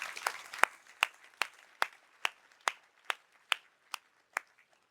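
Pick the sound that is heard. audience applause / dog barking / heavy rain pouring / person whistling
audience applause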